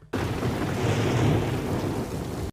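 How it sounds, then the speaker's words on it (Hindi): Loud thunder rolls in before rain, a sudden deep rumbling roar that holds steady for over two seconds, with no voices. "कितनी तेज गरज हो रही है, लगता है कि बारिश होने वाली है"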